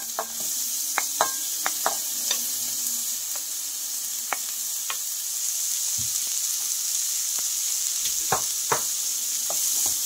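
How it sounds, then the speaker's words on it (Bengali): Chopped onions sizzle in hot mustard oil for a shrimp bhuna, a steady loud frying hiss throughout with scattered sharp crackles and pops close by, no talk. "এখন এখানে 2টা পেঁয়াজ কুচিয়ে নিয়েছি, দিয়ে দেব।"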